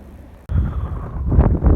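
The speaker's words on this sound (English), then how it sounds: "Oh, it's so windy." Strong wind blows across an open hayfield and buffets the microphone, producing a loud, sudden low roar that swells and gusts on and off.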